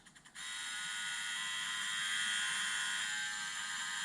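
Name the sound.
Bosch GRL800-20HV rotary laser level running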